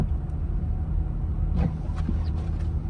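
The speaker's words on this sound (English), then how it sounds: "I'm coming down a hill, which I will put into manual mode, downshift to 2" A 2023 Toyota Corolla Cross Hybrid, shifted down to second in manual mode, rolls downhill on snow with a steady low cabin rumble of road and engine noise and a few faint clicks.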